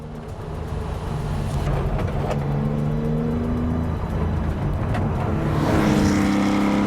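A 1967-style Porsche 911R tribute car pulls away with a loud, rising engine note that holds steady and then climbs again near the end as it revs harder, heard close with no talking.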